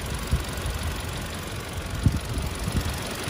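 A 2018 Toyota Innova engine idles smoothly with an original, unmodified motor, a steady low rumble with faint periodic knocks and a cooling fan running, close and fairly loud, with no talk.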